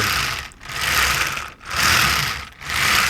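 A COBI Tiger II toy tank rolls along under its small electric motor, giving a steady whirring buzz that swells and dips in a regular rhythm about once per second, heard close and alone.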